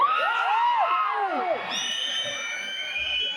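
A crowd at a film teaser launch event shouts and cheers, with shrill swooping whistles up front and a steady roar of voices behind, loud and close throughout.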